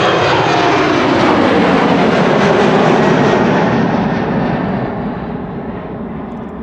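Loud, continuous aircraft engine roar close by at Amsterdam Schiphol Airport, a broad steady rumble and whine that holds strong before easing slightly toward the end, with no talking.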